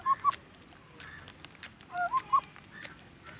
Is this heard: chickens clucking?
yes